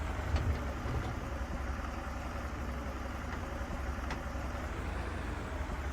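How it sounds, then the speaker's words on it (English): A tractor engine in Farming Simulator 22 runs at a steady, even drone, a low mid-pitched hum with no speech over it. "Now, this tractor handles pretty good."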